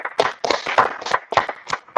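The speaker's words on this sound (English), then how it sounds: "let's clap it up for the Lord." A small group at a religious brotherhood class claps in loose, rhythmic bursts, sharp and close, several claps per second with short gaps.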